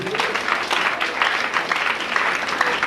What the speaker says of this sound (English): can we give another wonderful clap, please?